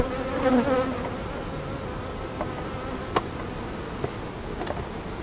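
Honeybees buzz around a beehive as honey supers are added, a dense close hum with a few louder passes near the start and scattered light ticks.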